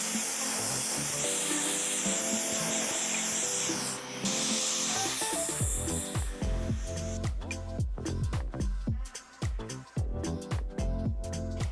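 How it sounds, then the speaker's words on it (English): Hair blow dryer blasting air while drying hair, a loud continuous whooshing roar with a steady tonal whine that shifts pitch midway, then choppy bursts as the airflow is moved and switched. "I just finished blow drying"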